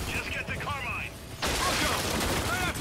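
Gunfire in the video game Gears 5, a dense burst of rapid shots that erupts partway through and keeps going loud, layered over game noise and a voice talking.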